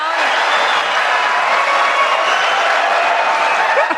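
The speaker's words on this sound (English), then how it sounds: "And the crowd goes wild." A GOP primary debate audience roars with cheers and applause, a dense, loud, unbroken wash of crowd noise that holds steady throughout.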